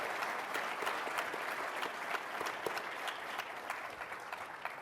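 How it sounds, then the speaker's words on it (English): An audience applauds panelists at the close of an insurance industry event, a dense sustained wash of many hands clapping with scattered sharper claps, steady and fairly loud throughout. "Please give them a round of applause."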